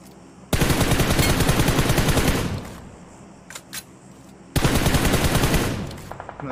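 Rapid automatic gunfire sprayed at long range in the mobile shooter BGMI, two loud sustained bursts of dense rattling shots separated by a quieter gap with a couple of isolated pops.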